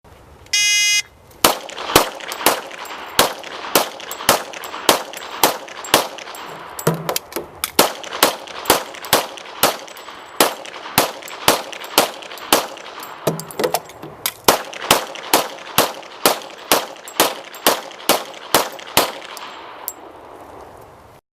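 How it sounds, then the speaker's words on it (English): A demonstrator fires 10-round magazines at three targets, sharp loud gunshots cracking one after another at a steady pace with short pauses between magazines, plus a ringing metallic burst at the start. "Now our demonstrator, Jim, will be firing 10-round magazines on our 3 targets."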